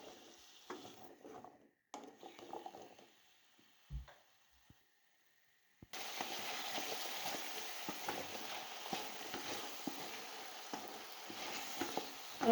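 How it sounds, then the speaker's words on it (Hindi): Potatoes fry in oil for aloo bhujia, starting with quiet scattered clinks and a brief lull, then breaking into a steady, fairly loud crackling sizzle that carries on close by. "8 से 10 मिनट हम इसको फ्राई कर लेंगे"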